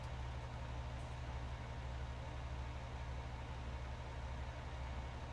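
A tractor engine idling steadily in Farming Simulator 19, a low, constant hum with a faint even drone and no changes in pitch or speed, heard alone at a modest level.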